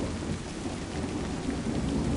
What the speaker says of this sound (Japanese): 雨風はなおも止まず、雷鳴もますます激しくなり